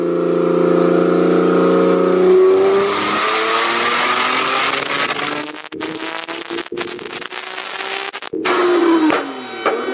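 A turbocharged Nissan 370Z engine revs hard on a dyno power run, its loud rising wail climbing steadily before choppy breaks and sharp cuts near the end, then a final surge.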